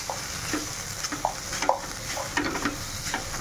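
Boiled potato filling with cumin powder is mashed with a glass and stirred in a kadai, producing soft scraping and knocking strokes over a faint background hiss, with no talking.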